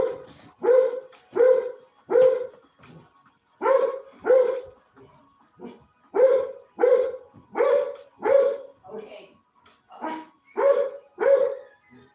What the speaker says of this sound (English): That was Sniper barking, guys.